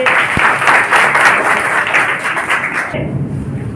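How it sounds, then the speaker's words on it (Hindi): Classroom applause from a group of pupils, a dense burst of clapping that carries on steadily for about three seconds and then drops away, with no talking. "बहुत अच्छे, ताली बजाइए इनके लिए भाई।"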